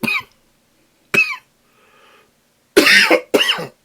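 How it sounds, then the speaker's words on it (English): Several sharp coughs, two single ones then a louder pair, separated by near silence and a faint murmur. "Apologies for the coughing."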